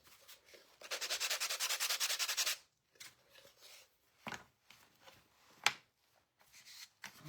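A wooden ornament is sanded by hand with about two seconds of quick, rhythmic back-and-forth rasping, followed by scattered soft scrapes and light knocks as the piece is handled.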